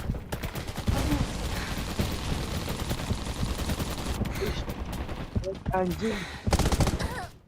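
Sustained automatic gunfire in the survival shooter Undawn, with dense rapid bursts that stop and start, a player talking over part of it, and a loud final burst near the end.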